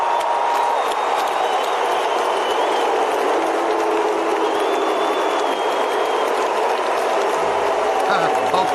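A large concert crowd keeps up a steady, dense roar, a sustained low chant of a name that sounds like booing, filling the whole stretch without pause.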